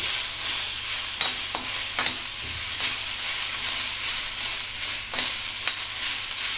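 Onions fry in oil on a tawa for a Malvani onion-coconut masala, giving a steady close sizzle broken by occasional scraping stirs.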